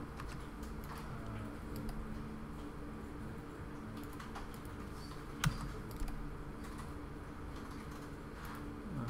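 Soft, quick clicks of typing on a computer keyboard run through the stretch at a low level, with one slightly sharper tap midway, in a quiet room with no talking.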